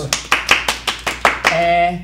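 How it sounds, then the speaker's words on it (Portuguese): Applause on a talk show comes as about eight sharp, close hand claps in a quick regular rhythm, loud and distinct, before a voice cuts in at the end. "Aplausos!"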